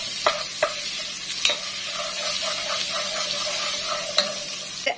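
Onions fry in a pan for Moroccan-style couscous while being stirred. A steady sizzle runs under sporadic sharp clicks and scrapes from the utensil against the pan. It is close, with no voices.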